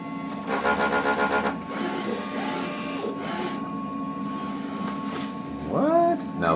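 A DTF printer runs a test print, its print head carriage shuttling with rhythmic mechanical whirring and buzzing passes, close and fairly loud, ending with a rising motor whine.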